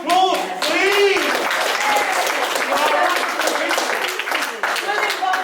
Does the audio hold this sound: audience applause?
yes